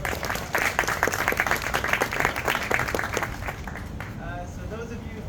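A crowd at a Reno Startup Week presentation claps in a loud, sustained round of applause, with a cheer near the end as the clapping fades and a voice begins.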